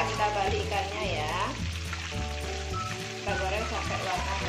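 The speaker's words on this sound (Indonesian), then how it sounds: "Kita goreng sampai warna kecoklatan." Oil sizzling and crackling steadily as gourami fish fries in a pan until browned, close up, with a voice talking over the frying.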